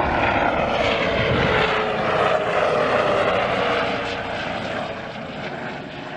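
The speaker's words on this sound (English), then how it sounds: "That was a helicopter." An aircraft roars overhead with a broad, steady engine and rotor rumble, loud at first and gradually fading as it moves away.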